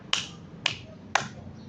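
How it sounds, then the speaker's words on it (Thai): Three sharp single hand claps struck in open air, evenly spaced about half a second apart, crisp and close with quick decay over a low background hum. "ครูปรบมือในอากาศ"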